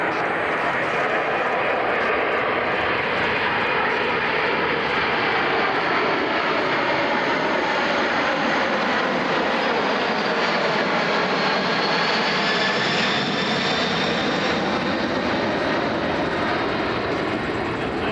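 Boeing C-17 Globemaster military jet transport engines roaring at an airshow in London, Ontario, a steady, loud, broadband jet rumble sustained throughout with a faint tonal whine, with talk in the background.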